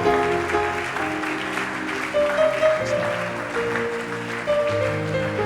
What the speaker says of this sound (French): Acclamez fortement alors qu'ils avancent.